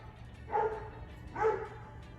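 A dog barks twice, about a second apart, muffled and at moderate distance over a low background hum.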